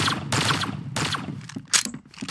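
Gunfire in the Roblox shooter Arsenal comes in two loud, sustained automatic bursts, followed by a few scattered sharper shots and a bright metallic ping, all close and with no talking.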